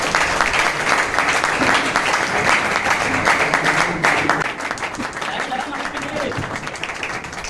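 Sustained applause from a seated audience at a Hindi-language business meeting, honoring diamond achievers; dense, steady clapping fills the whole stretch, easing slightly in the second half.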